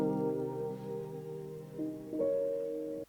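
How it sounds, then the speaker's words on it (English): An R&B beat plays soft sustained chords that shift up near the end, then stops dead without any reverb tail ringing out, leaving abrupt silence; no one speaks. "without that Valhalla on there, the beat ends just like this."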